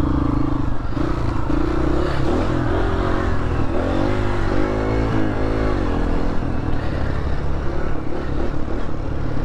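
A Honda CRF150F dirt bike runs loud and close on soft, muddy ground, its engine droning and revving steadily with the pitch rising and falling over the clip.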